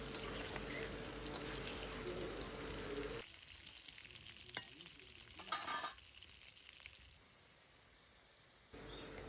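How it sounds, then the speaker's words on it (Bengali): Potatoes frying in hot oil with turmeric and salt, a dense close sizzle with stirring clatter that drops away twice to a quieter background before returning. "দেখতে থাকো তোমরা, আলুটা সবে ভাজা হচ্ছে।"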